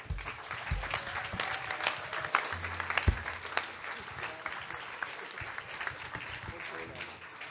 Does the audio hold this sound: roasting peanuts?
no